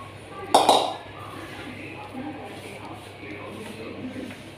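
Metal spoon on a pan while semolina barfi mixture is stirred, one bright clink and scrape near the start followed by soft, faint scraping under a voice.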